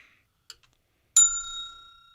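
A small bell on a live show is struck once after a couple of faint ticks, giving a bright, clear ding that rings on and slowly fades.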